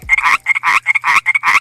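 Frogs croak close by in a loud, steady series of about five rasping calls, evenly spaced with short gaps between them.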